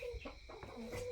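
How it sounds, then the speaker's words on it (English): Chickens cluck softly in a short burst, faint and somewhat distant over a background hum, with no voices. "Got some more chickens here."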